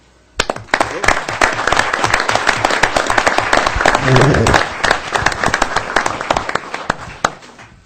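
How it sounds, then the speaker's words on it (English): A council meeting audience at a reserve officer pinning ceremony breaks into loud, sharp hand claps that build quickly into sustained applause and then taper off to scattered claps. "I would like to give you a round of applause for the citizens of this fine town"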